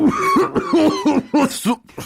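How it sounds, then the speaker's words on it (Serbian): A rapid series of about six harsh, close coughs in a row, loud and rhythmic, with brief gaps between them. "kašljem u lakat"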